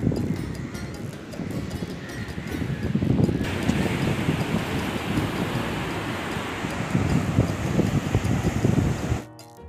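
Sea waves surge onto a beach under heavy wind buffeting the microphone, a loud, rolling roar that swells and eases and then cuts off abruptly at the end.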